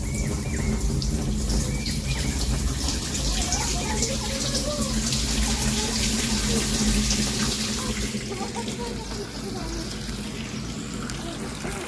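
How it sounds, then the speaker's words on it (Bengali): Water runs steadily from a tap in a home setting, a continuous broadband rush lasting throughout, with faint bird calls and a background voice beneath it. "এই দেখুন জল আসছে"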